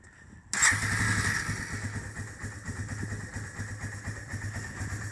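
A Yamaha Bear Tracker 250 ATV engine barely runs, chugging with an uneven, low-pitched idle after a sudden start, steady and moderately close with no talk over it.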